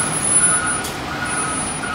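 Steady engine rumble of a brand new truck, about three weeks in service, idling or reversing close by, with a broad continuous drone and no talk.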